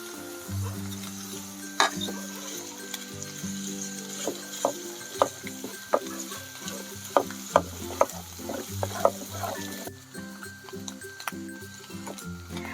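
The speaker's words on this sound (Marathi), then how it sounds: "तर आपला कांदा आणि लसण व्यवस्थित झालेला आहे तर हे वाटण मी त्याच्यामध्ये टाकून घेते" Ground masala paste fries with onion and garlic for Malvani chicken over a wood-fired stove, a low sizzle broken by regular scraping stirring knocks, with some background hum.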